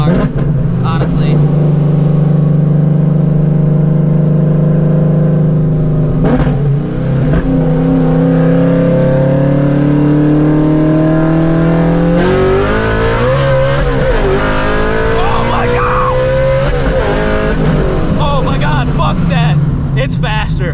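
A supercharged Shelby GT350 accelerates hard in second gear, its loud close engine note climbing in pitch with a gear change partway through, and an excited voice talks over it.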